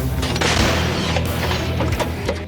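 A CAESAR 155 mm self-propelled howitzer fires in a dense, loud artillery barrage, with deep thuds and crackling echoes overlapping across the whole short stretch.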